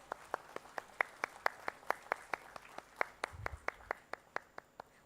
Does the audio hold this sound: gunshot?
no